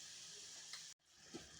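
Tomato and spring onion hitting a hot pan for a moong dal tomato curry, giving a steady close frying sizzle and hiss that cuts out for an instant, then resumes with a brief stirring clatter.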